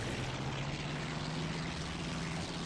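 Steady propeller engine drone of a US Navy fighter plane at full throttle in the flight game IL-2 1946, a constant low hum with broadband rush, even and unbroken.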